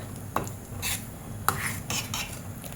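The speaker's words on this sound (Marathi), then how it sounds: "त्यामध्ये आपल्याला घालायची बारीक चिरलेली कोथिंबीर छान अशी मिक्स करून घेऊया आपण" A utensil stirs dal mixed with finely chopped coriander in a pan. Sharp metallic scrapes and clinks come at an irregular pace over a low bubbling simmer, close and fairly quiet, and no one speaks.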